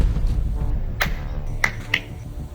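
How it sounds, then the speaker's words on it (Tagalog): Three separate sharp hand claps or snaps sound close by over low background noise during a hide-and-seek game, spaced unevenly about half a second apart. "Palakpak!"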